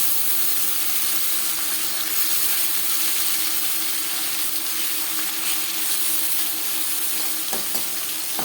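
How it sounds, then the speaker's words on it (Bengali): Fish sizzling steadily in hot refined oil for a katla fish curry, a dense continuous frying hiss close by with no talk. "পরের মাছ একইভাবে ভেজে নেব।"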